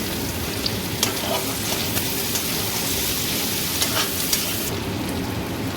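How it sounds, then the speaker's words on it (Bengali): Continuous loud frying sizzle of onions in hot turmeric-tinged oil, a dense crackling hiss with faint scattered pops, steady throughout and close up. "তেলটি হালকা ভাজা হয়ে এলে এর মধ্যে পেঁয়াজ দিয়ে দেবো"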